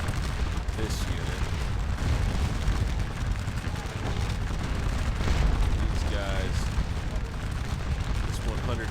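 Musket volleys from infantry units in the Napoleonic battle game Scourge of War: Waterloo, heard as a dense, rumbling crackle of repeated distant shots over continuous battle noise.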